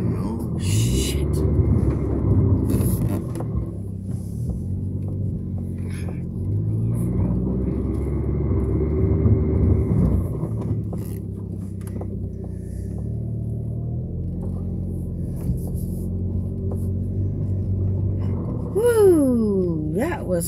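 A car driving off-road through mud in Illinois, a loud continuous engine rumble with revving pitch changes, with people talking and exclaiming over the engine throughout.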